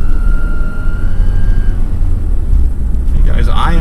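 A Ford Ranger engine running on charcoal gas rumbles loudly and close, with a thin steady whistle riding above it for the first couple of seconds, and a voice comes in near the end.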